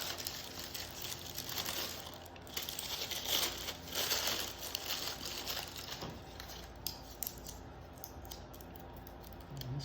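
Wax paper is peeled off a laminated outer stem on a Yukon racing kayak, producing close, faint crinkling and tearing rustles that come in uneven bursts.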